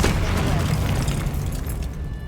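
A continuous booming blast from the Confringo explosive spell in the Hogwarts Legacy game, a dense roaring rumble that holds steady for a couple of seconds before easing slightly.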